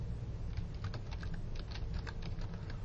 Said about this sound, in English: Now I'm going to type lend from reserves.